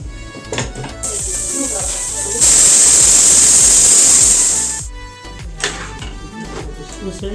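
A pressure cooker whistles loudly on the stove while white peas curry (safed vatana usal) cooks, a single sustained hiss lasting a few seconds over steady background noise.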